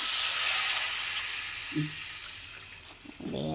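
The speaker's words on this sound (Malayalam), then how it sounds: "പുളി ഒഴിച്ചു കൊടുക്കാം" Tamarind water is poured into a hot pan for a Kerala-style dish and hits it with a loud, broad sizzling hiss that slowly fades, broken near the end by a brief clatter and a faint voice.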